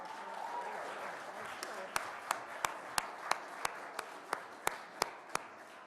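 A small audience claps for Governor Kathy Hochul at a Buffalo event, a soft wash of applause under which a few sharp, evenly spaced single claps ring out in a steady rhythm.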